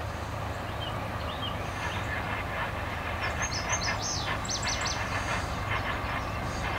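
An eastbound Norfolk Southern intermodal freight train rolls past at dawn on the Pocahontas Division near Christiansburg, a steady rumble with rail clatter, while birds chirp faintly in the background.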